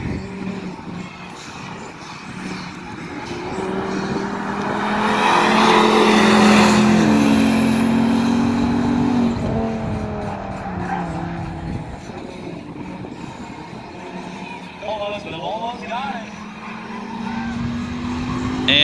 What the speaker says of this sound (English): Volvo gets off the line real good.